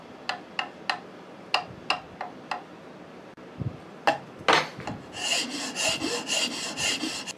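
A wooden pattern stock for a .375 H&H Magnum rifle is shaped by hand, with a run of regular rasping strokes, a short pause, then denser, louder continuous filing close by.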